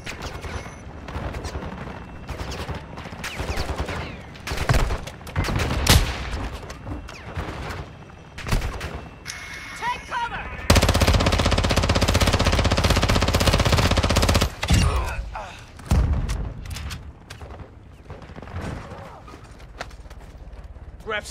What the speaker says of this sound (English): I hear somebody shooting